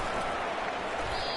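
Virtual stadium crowd in a College Football 25 video game roaring and applauding after a punt return, a dense, steady wall of cheering and clapping throughout with no letup.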